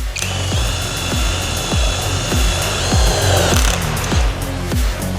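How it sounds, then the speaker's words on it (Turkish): A Retools cordless power drill drives a screw into thick steel plate. The motor whines loudly and close under a rapid, regular ratcheting clatter, then the pitch shifts and it stops near the end. "Şimdi bakla saç dediğimiz daha kalın saç olan bir demire yine vidalama işlemini yapalım."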